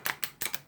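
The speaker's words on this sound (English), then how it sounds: "you do a controlled riffle shuffle" A controlled riffle shuffle of a deck of playing cards, done slowly: four short papery bursts of riffling cards, close and clear, with no talking.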